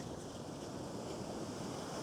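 Ocean waves break on a beach during a morning surf session at high tide, a steady, dense wash of surf with wind across the microphone and no voices.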